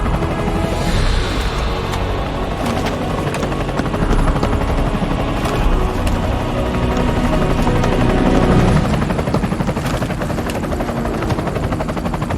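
A helicopter arrives in the video game Army of Two, its loud rotor roar running steadily for the whole stretch and filling the mix, with no one talking.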